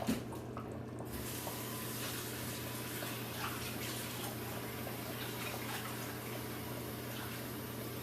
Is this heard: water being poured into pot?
yes